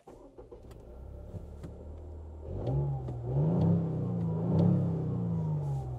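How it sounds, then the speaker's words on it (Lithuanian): A Toyota GR Yaris already warmed up turns over and fires, its engine catching after a few seconds and settling into a loud, steady idle close by with slight revving swells. "Na ir užveskim automobilį."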